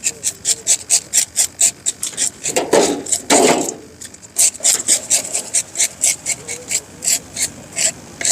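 Rhythmic rasping strokes as scales are scraped off a tilapia, fast repeated scrapes with a brief pause and a couple of heavier rubs midway, close and fairly loud.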